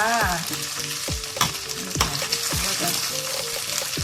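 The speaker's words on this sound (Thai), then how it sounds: "อันนี้เราจะทอดเราใส่ไปเลยนะคะ หอยทอดหอยทอด ให้กรอบๆเลยนะจ้า" Crispy Thai oyster omelette (hoi tod) made with batter, bean sprouts and egg fries in a pan with a loud, constant sizzle, while scraping stirs and clatters of the spatula recur throughout.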